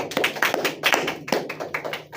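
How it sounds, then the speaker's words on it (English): Classmates clap for a student in a classroom, a dense burst of many hands applauding close by, with rhythmic peaks of louder claps throughout and no talking. "Give applause for your friend."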